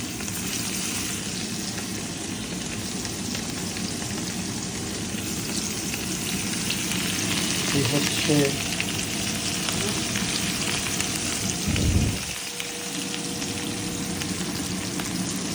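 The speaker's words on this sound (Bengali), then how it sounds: "মৃগের মাছ ভাজা হবে" Mrigal fish fries in hot oil, a steady broadband sizzle running throughout at moderate loudness, with a brief louder thump near the end and a few faint clinks.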